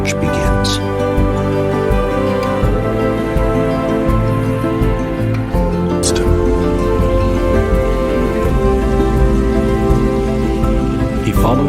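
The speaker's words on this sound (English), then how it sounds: "Rain begins to fall." Steady rain falls on a farm and forest in a dense, even patter that runs unbroken throughout, with a soft music bed underneath.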